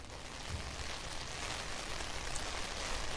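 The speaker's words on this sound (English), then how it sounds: "we are seeing this rain increase. It's starting to go sideways, and the winds have picked up" Heavy rain driven sideways by gusting wind in Asheville's River Arts District, a steady loud broadband wash with no voices.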